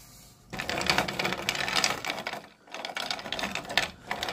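Coated bullets tumble and rattle inside a container as they are mixed with an acetone-based coating, a dense, close, continuous clattering that begins after a quiet start and dips briefly midway.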